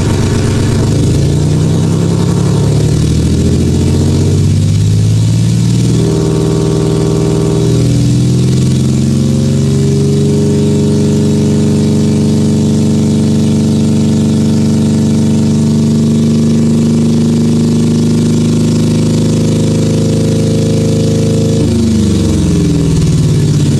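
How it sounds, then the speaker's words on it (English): A simulated naturally aspirated Rolls-Royce Merlin V12, the Spitfire fighter engine, runs steadily with a deep, even drone, shifting pitch a few times as it revs up and settles, loud and alone with no talk. "a famous V12, the Rolls-Royce Merlin, which was used in British World War II fighter planes like the Spitfire"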